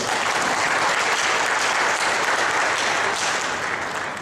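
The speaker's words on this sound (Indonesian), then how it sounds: "Jadi kita patut apresiasi dan tepuk tangan untuk Kementerian Perindustrian." An audience at a regional small-industry training program opening applauds loudly, a dense continuous clatter of many hands filling the room and tapering slightly at the end, no voices over it.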